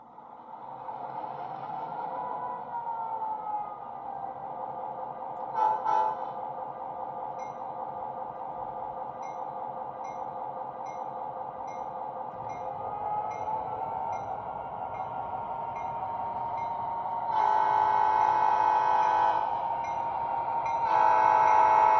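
A set of MTH Proto 3 Southern Railway F7 model locomotives starts up with a steady electric hum, then sounds a sustained horn in two long blasts near the end.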